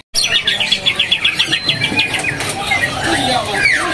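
A greater green leafbird sings close by, rapid bright chirps in quick repeated bursts followed by varied whistled notes.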